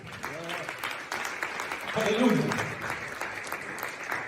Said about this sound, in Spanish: Dele palmas a Jesús.